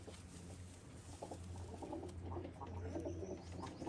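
Pigeons coo in a low, steady stream of repeated throaty calls, close and continuous, with faint patter and rustle in the background.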